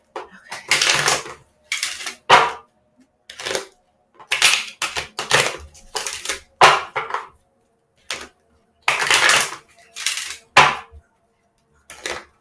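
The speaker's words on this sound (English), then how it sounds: "7 times shuffling." Tarot deck being shuffled in repeated short bursts of crisp riffling and card slaps, each lasting about a second with quiet gaps between, close and fairly loud with no talking.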